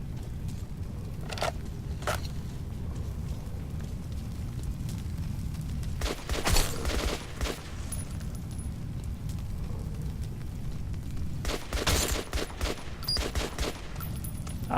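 Bursts of gunfire at enemies in Metro 2033 Redux, sharp repeated shots spread across a steady rumbling game background, with denser volleys around the middle and near the end, loud and close, no talking.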